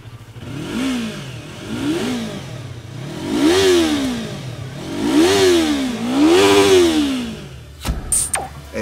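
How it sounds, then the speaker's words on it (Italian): A Yamaha YZF-R3 motorcycle engine fitted with an Akrapovič exhaust revs up and drops back in five or six rising and falling sweeps, growing louder toward the end, with a short burst of clatter at the close. "E allora godiamoci la sua bella voce accordata allo scarico a Krapovic."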